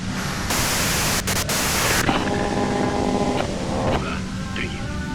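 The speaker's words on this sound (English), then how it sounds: "you can do it through the white noise." Harsh, steady white-noise static from a radio in the detective game Disco Elysium, a broadband hiss that shifts partway through into a layered hum with faint tones, filling the whole stretch with no voices.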